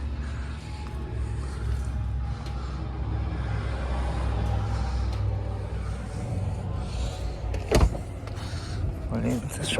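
A car's power tailgate motor whirs steadily for several seconds with low engine rumble beneath, a clunk near the end, and a voice speaking briefly.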